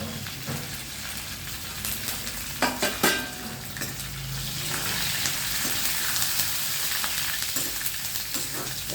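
Curry leaves sizzle and crackle steadily as they fry in hot oil, with a brief stir clatter near the start; the constant close frying hiss fills the whole stretch.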